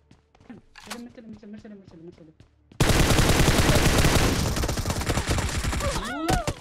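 Automatic gunfire sprays hard and fast in a mobile shooter game, a loud dense burst that starts abruptly after a few seconds of talk and keeps going to the end.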